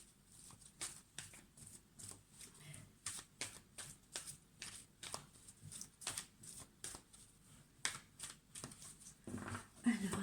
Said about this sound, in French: On va brasser.